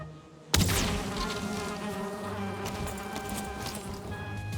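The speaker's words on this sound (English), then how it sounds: "More bees." A swarm of bees buzzes near a beehive in the game Valheim, a steady, close insect drone that begins abruptly after a brief quiet and continues evenly throughout, with no talking.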